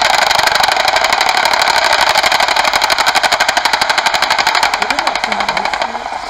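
Rapid military gunfire during a training exercise, a fast, regular burst of shots sustained for several seconds, loud and close, with people talking over it.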